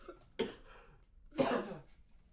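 Two separate coughs, a short one followed by a longer, louder hacking burst a second later, close to the listener in a quiet podcast room.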